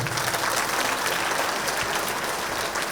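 Loud audience applause at a rally gathering, a thick, continuous burst of many hands clapping that holds steady for a few seconds with no talk over it.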